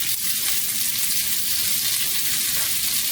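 Onion and garlic crackle and sizzle steadily in chili oil while being stirred, a dense, close, even frying noise with no voices.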